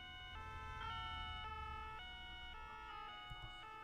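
A two-tone emergency vehicle siren in the video game Arma alternates steadily between high and low pitches, each tone about half a second long, over a low engine rumble. It is fairly faint and continuous, with no talk.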